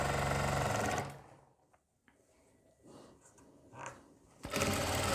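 Sewing machine stitching an invisible zip onto the back of a kurti, a loud rapid run that stops after a second, then quiet handling and faint rustles before the machine starts again briefly at the end.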